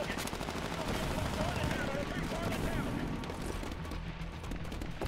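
Dense, sustained automatic gunfire and explosions from the first-person shooter video game Titanfall, loud and continuous throughout, with a player talking over the battle.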